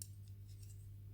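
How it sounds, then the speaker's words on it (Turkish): Scissors snip a knitted yarn stitch, a faint soft cut close by over a steady low electrical hum. "ilmeğimi kesiyorum ve kola doğru gidiyorum"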